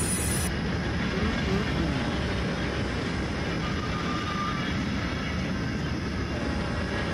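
A train rumbling steadily past on CSX A-Line track in the Run 8 train simulator, a continuous loud rolling roar with no talk over it.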